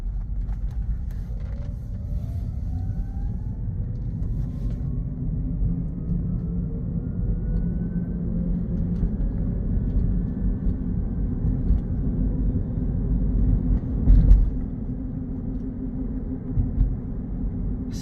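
A 2022 Rivian R1 Adventure electric vehicle on a test drive, heard from inside as a steady low road rumble with a faint rising and falling electric motor whine, no talking.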